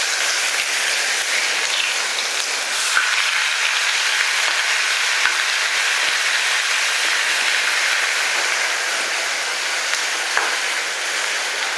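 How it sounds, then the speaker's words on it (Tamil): Garlic frying in hot oil with mustard seeds and asafoetida for a lemon garlic thokku, giving a steady, fairly loud crackling sizzle throughout with a few sharp pops and no talking. "எண்ணெய் காஞ்சிருச்சு நல்லாவே. கடுகு போட்டாச்சு. அடுத்ததாக பெருங்காயம். அடுத்து இந்த பூண்டு போட்டுறோம்."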